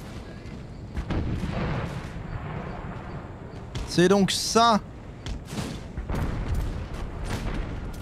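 Heavy cannon booms thud through a noisy battle scene in a Total War video game, with a sharp burst of firing midway and a voice speaking briefly over the din.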